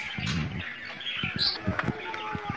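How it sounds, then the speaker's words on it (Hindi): Soft pigeon squawks and chirps close by, with rustling and light fluttering movement in between, no talking. "तो ये मेरी कबूतर बैठी हुई है माशाल्लाह"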